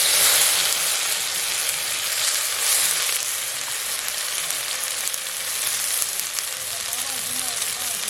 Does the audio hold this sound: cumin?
yes